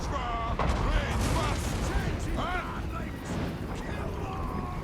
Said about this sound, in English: You see the organ gun opening fire on Archaon the Ever-Chosen.